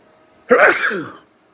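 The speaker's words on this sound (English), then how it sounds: "I gotta sneeze, hold on." A single loud, close sneeze bursts out suddenly after a moment of quiet, then trails off.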